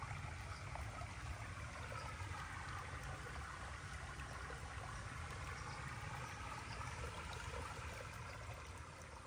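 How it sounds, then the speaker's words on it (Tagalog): Clean spring water flows steadily along a channel on a rural farm property, a continuous close trickling and gurgling with no talk. "Ito naman po ang malinis na daluyan ng tubig na makikita po natin dito sa loob ng property."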